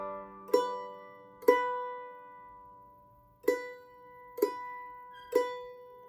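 An octave mandolin plays the opening measures of Jingle Bells as five separate strummed chords, each ringing out and decaying, spaced about a second apart with a longer pause in the middle, close and fairly quiet.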